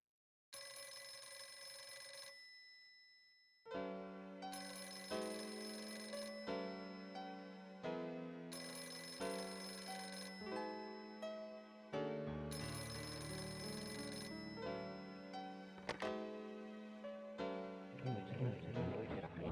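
An electronic telephone ringtone from the PS2 game Flower, Sun, and Rain sounds in repeated melodic bursts separated by short gaps, clear and alone.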